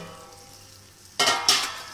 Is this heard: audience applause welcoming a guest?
no